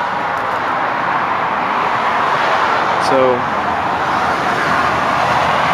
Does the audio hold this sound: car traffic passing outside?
yes